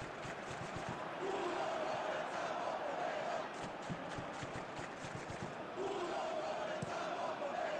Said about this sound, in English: the crowd clearly liked what they just saw